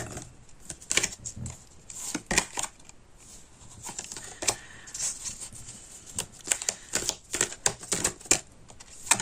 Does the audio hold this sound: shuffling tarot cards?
yes